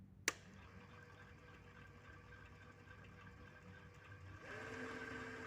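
Mini lathe motor running after its power supply board was replaced, a quiet steady whine with a click at the start and a rise in pitch and loudness near the end as the speed is turned up.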